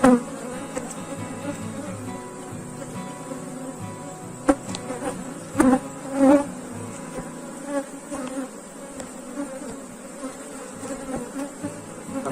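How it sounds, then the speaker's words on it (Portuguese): Honeybee swarm at an opened beehive, a dense, continuous buzzing hum with individual bees zipping close past now and then, no talk over it. "Mas o enxame já está com volume muito bom de abelha."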